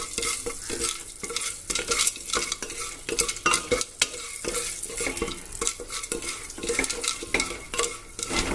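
Popcorn kernels with butter and batter are stirred in a hot pan, a close rhythmic scraping and clatter of utensil against metal over a light sizzle, with no talk.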